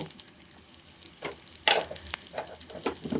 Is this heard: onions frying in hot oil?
yes